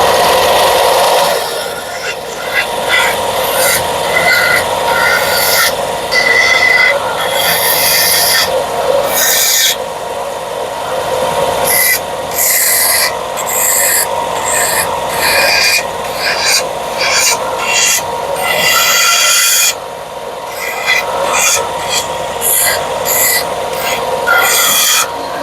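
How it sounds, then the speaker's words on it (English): A belt sander shapes a wooden piece in a loud, continuous rasping grind, the pitch and intensity shifting repeatedly as the wood is pressed on and eased off the belt. "I take my piece over to the belt sander and all I'm going to do is shape that a little bit more"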